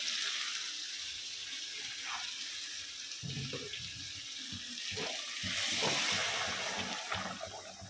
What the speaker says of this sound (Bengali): এবার আমি যে জলটা গরম দিয়েছিলাম জলটা পটল আলু চিংড়ির মধ্যে দিয়ে দেবো।